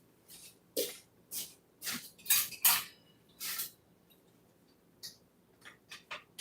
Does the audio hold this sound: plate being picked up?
yes